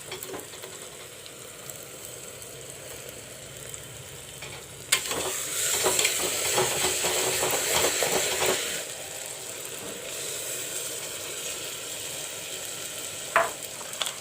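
Ginger garlic paste drops into browned onions in a pressure cooker, and a louder burst of frying and stirring scrapes follows before settling back to a soft sizzle, with a short clink near the end.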